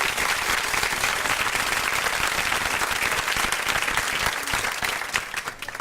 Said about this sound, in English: That was an applause for Andrea